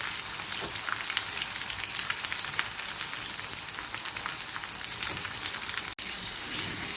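Ingredients for lamb paya shorba fry in a pan with a steady, dense crackling sizzle that runs unbroken and fairly loud, dropping out for a split second near the end before resuming.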